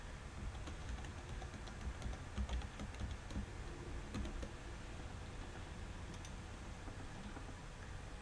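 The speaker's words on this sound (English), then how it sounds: "you're going to click on and type in your secondary password" Fingers type a password on a computer keyboard, producing faint, rapid key clicks in irregular clusters over a quiet background hiss, with no speech.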